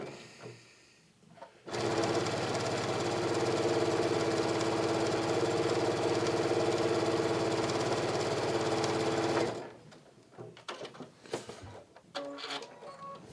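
A sewing machine stitches quilt panel pieces in a steady, close, continuous whir for about eight seconds, then stops, leaving scattered fabric handling and small clicks.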